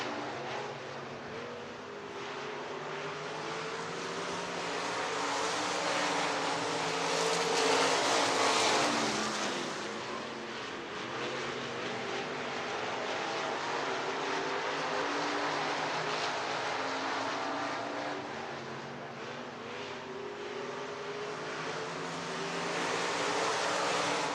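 IMCA race cars thunder around the Boone Speedway dirt oval in Boone, Iowa, their engines blending into a continuous, distant roar that swells and ebbs as the pack passes.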